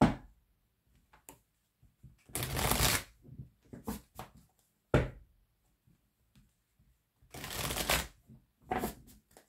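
Tarot or oracle cards shuffled and cut in several separate bursts, each a loud riffling flutter lasting about a second, with soft taps and card handling in the quiet gaps between, no voices.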